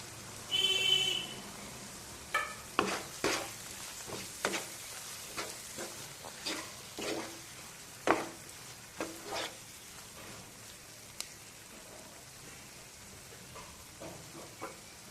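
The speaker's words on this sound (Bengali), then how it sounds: "বেটে নেওয়া মশলার জল দিয়ে মশলাটা কষিয়ে নেব।" Spice paste with chili powder being fried with water in a pan for a yogurt rohu fish curry, soft sizzling under a series of scraping stirs that grow quieter and sparser.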